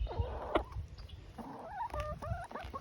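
Roosters and hens cluck and call near each other in a backyard flock, with short bursts and rising trill-like calls spaced across a couple of seconds at moderate, close range.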